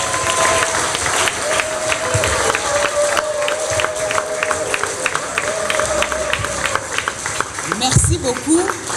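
A crowd applauds at a hospital event with dense, continuous clapping and some cheering, while a voice speaks over it.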